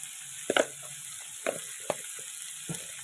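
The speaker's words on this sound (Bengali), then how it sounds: "সবজিগুলোকে খুব বেশি করে লাল করে ভাজার দরকার নেই।" Beans, carrot and cabbage sizzle in a pan for Bengali-style chowmein, with a steady close hiss broken by a few sharp clinks of stirring.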